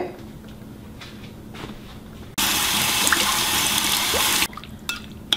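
Tap water gushes loudly for about two seconds as raw fish is rinsed for Peruvian ceviche, starting abruptly and cutting off, with quieter kitchen handling and drips before and after.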